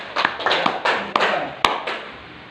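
Several people clapping hands in a small room at a teacher-training session, a sparse, uneven burst of distinct claps with sharp individual slaps, fading out after about two seconds.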